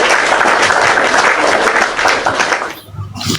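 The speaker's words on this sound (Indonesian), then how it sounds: "Beri tepuk tangan dong buat Pak dengan Arom" Loud, close applause from an audience fills most of the moment, a dense clatter of hands that breaks off abruptly near the end, leaving a brief lull.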